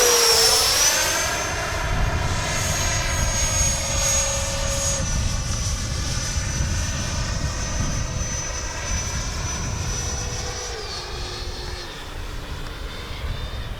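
A Freewing 90mm Eurofighter RC jet whines loudly overhead with gear down for landing, its turbine a steady high-pitched roar that shifts pitch as it passes and slowly fades, with no voices.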